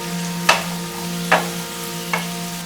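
Vegetables for chicken fried rice stirred and fried over a high flame, with three sharp spatula scrapes against the pan over a steady sizzle and a low hum.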